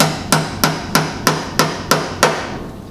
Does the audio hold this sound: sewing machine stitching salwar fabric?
no